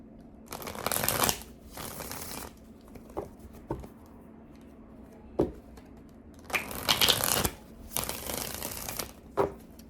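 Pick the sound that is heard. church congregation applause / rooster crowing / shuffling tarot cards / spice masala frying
shuffling tarot cards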